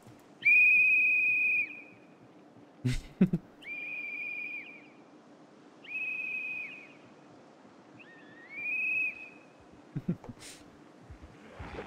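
Whistles blown repeatedly in a zombie video game, each a sustained high tone lasting a second or so, sounding four times over steady background noise with a few sharp clicks.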